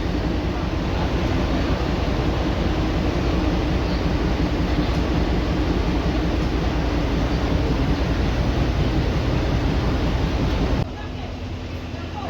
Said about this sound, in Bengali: এই তো টয় ট্রেন যাবো হচ্ছে এদিকে।